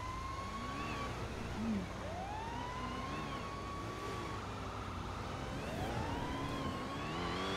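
A fire engine siren wails, rising and falling repeatedly, steady and moderately distant, with a low traffic rumble underneath and no talking.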